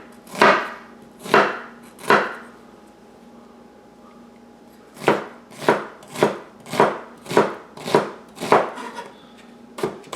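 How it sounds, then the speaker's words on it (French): Onions being finely chopped with a knife on a board for a homemade pâté chinois: three sharp, close cuts, a short pause, then a quicker run of seven or eight steady strikes. "Ici, on hache les oignons assez finement."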